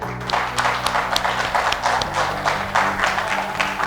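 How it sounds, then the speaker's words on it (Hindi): An audience at a direct selling business presentation claps together in a steady, fairly close burst of applause, with music or a sustained tone running underneath. "सो तालियां हो जाए अपने अपने अपलाइन के लिए।"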